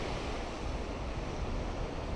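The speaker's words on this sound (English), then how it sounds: "The waves aren't overly huge" Ocean waves breaking on a beach on Cijin Island, a steady broad wash of surf mixed with wind noise, continuous and moderately loud, with no talk.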